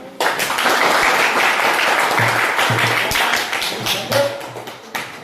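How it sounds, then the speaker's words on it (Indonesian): Classmates in a classroom clap after a group presentation, a steady patter of hands starting abruptly and continuing for several seconds before thinning out, with a few louder individual claps and a faint voice near the end. "Oke, ya, tepuk tangan dulu."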